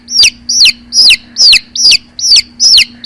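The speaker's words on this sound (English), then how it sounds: "Baby Zeke, the hen is trying to eat your food." A hen clucks loudly and close by, seven evenly spaced calls in a steady rhythm over three seconds, each a short rising squawk, with a low constant hum beneath.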